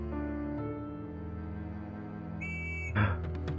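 A short, high whistle blast in the video game Evoland 2 rings out for about half a second over steady background game music, followed by a brief thump.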